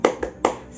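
A primary-school class clapping a quick rhythmic cheer: three sharp hand-clap bursts in a short pattern, close and loud, with no voices.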